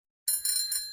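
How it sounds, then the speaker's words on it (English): A bicycle bell rings out in quick bright dings, three close strikes with a lingering metallic shimmer, heard alone. "bicycle,"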